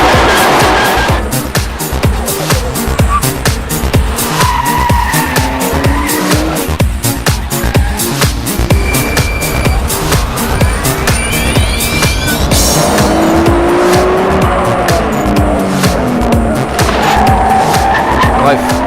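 A Nissan Skyline R34 Nismo Z-Tune with titanium exhaust roars loudly on a twisty mountain road, engine revving up and down continuously with tire squeal and skidding through tight bends, close and dominant throughout.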